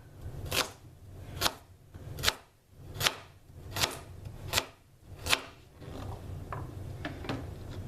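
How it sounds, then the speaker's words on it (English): Celery is chopped with a knife on a board: seven crisp, evenly spaced cuts roughly three-quarters of a second apart, then softer scattered taps and board rustles trail off, close and clear with no talking. "with my celery. I just want to chop it up."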